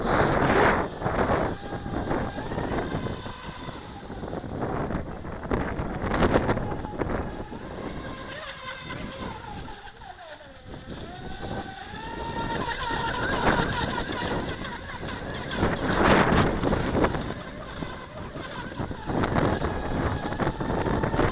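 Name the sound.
Feilun FT011 brushless RC speed boat motor screaming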